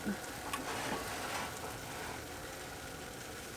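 Maple syrup comes to a boil for homemade maple sugar candy, a quiet steady bubbling hiss with a faint crackle, continuous and low in level, no speech.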